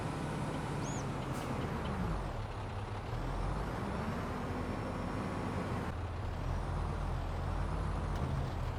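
An underpowered farm truck runs in a canola field, its engine a loud, steady rumble close by with a faint hiss on top and no break in the drone.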